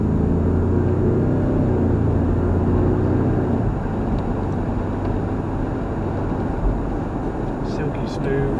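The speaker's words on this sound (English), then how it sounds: "Love the engine noise that it gives you when you put your foot down." Land Rover Defender 2020 D240 First Edition accelerating onto a dual carriageway, a deep steady engine rumble heard from inside the cabin with road noise and muffled talk over it.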